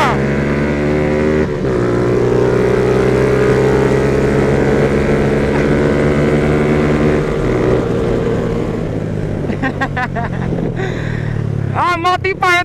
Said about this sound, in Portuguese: A moto empaia tá andando que só peste